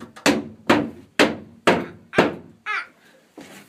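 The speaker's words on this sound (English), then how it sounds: "It's a hammer." Hammer struck five times in a steady rhythm, each a sharp, loud, close thunk, followed by a child's brief squeal and one softer knock.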